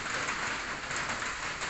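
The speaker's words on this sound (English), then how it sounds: "But the rain prohibits me from going out and walking around." Rain falls outdoors in Cambodia as a steady, dense hiss of drops, fairly loud and continuous, with no voices.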